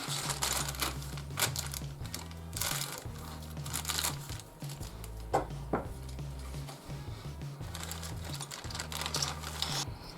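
Plastic bagging crinkles and rustles as a sprue from a 1/200 Trumpeter Bismarck model kit is unwrapped, irregular close-up crackles and handling clatter over a low steady hum.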